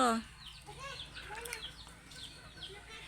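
Backyard chickens give a few soft, scattered clucks and short calls, heard faintly at a moderate distance over quiet background noise.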